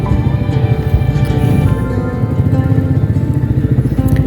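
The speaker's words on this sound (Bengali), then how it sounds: "সব বাইক এখানে ঢুকছে" Motorbikes roll up at Narajole Rajbari, their engines putting loudly and close in a steady, throbbing low rumble that lasts the whole time.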